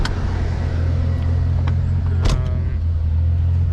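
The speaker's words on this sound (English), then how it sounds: "I have started the car, so it runs now." A Mercedes 190E turbo with a swapped M103 engine idles steadily and loudly up close, a constant low rumble with a brief sharp transient midway and no speech.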